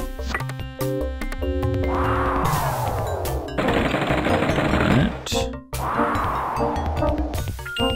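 Jackhammer drilling in the Lode Runner: The Legend Returns video game, a loud, dense rattling burst that repeats in several long stretches, mixed with bright electronic game tones and no talk.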